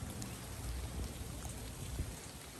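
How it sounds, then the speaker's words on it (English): Steady rain falls on a work site, a dense, even hiss of drops with a low rumbling undertone, faint and continuous, with no talk. "the rain's here, guys."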